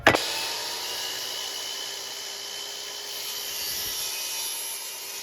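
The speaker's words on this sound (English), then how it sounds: "So I make my miter cut." Saw making a miter cut on a wooden stair rail: a sharp bite at the start gives way to a steady, continuous whirring cut that holds evenly to the end, close and alone.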